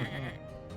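Short sheep bleat from the video game Across the Obelisk, a single wavering cry heard over steady game background sound.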